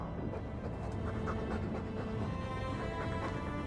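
A Mabari war dog in Dragon Age 2 pants continuously, quick breathy huffs held close and steady over a dense background with no talking.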